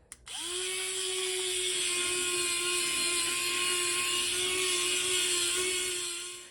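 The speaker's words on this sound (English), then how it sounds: "This electric spin scrubber works really well." An electric spin scrubber starts with a click, spins up quickly and then hums as a steady, close, bright whir for several seconds before winding down, with no voices.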